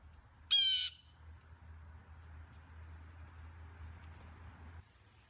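A blue jay lets out one loud, harsh squawk close by, then a quiet low hum continues underneath.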